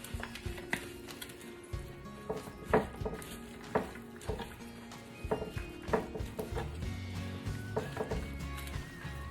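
Octopus salad with lettuce being stirred in a bowl, giving soft repeated clinks and rustling scrapes at a close, moderate level with an irregular rhythm and no talking.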